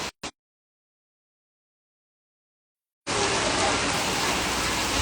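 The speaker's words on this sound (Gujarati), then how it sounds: "ધમધોકાર વરસાદ પડી રહ્યો છે." A heavy monsoon downpour in Gujarat starts abruptly after a brief noise and near-silence, becoming a loud, dense, unbroken roar of rain.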